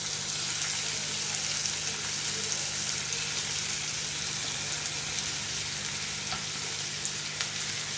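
Tomato and other ingredients fry with curry leaves in a pan, giving a loud, steady, dense sizzle that holds evenly throughout with no one talking.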